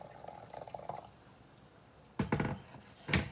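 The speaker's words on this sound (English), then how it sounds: "So I'm going to put it into my Japanese teapot. Add some hot water." Hot water splashes into a Japanese teapot holding green tea in two short bursts, close and fairly loud, after a quiet stretch of faint dripping.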